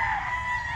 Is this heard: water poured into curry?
no